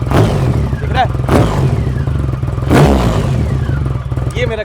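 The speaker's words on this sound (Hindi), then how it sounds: "बाइक खड़ी है, अब रेव करूंगा" Triumph Rocket 3 motorcycle standing still while its big engine is revved, loud and close, with repeated sharp throttle blips rising and falling over a deep idle.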